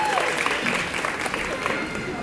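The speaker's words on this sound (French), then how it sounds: "Sous vos applaudissements." An audience at a baby fair stage show applauds in a dense, steady patter of many hands clapping, moderately loud and sustained under a crowd atmosphere.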